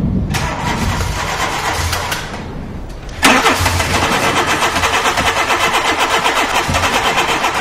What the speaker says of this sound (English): Happy with his reconditioned head, Bernie tries the engine for the first time.